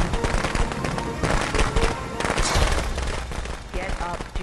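Gunfire and explosive blasts in the cooperative zombie shooter World War Z, dense rapid bursts of shots and bangs crackling continuously at moderate volume, with players chatting underneath.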